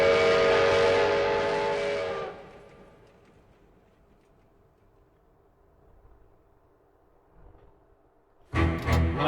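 A steam train whistle in the anime Fullmetal Alchemist Brotherhood sounds one long, loud, harmonic blast that fades into a quiet rumble, before a sudden burst of noise at the end.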